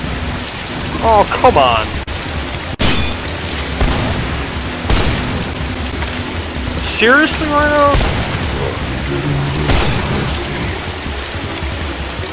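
Steady acid rain hisses in the video game The Haunted: Hells Reach, Steel Town map, and thunder cracks break through it a few times. Someone talks frustratedly over the downpour.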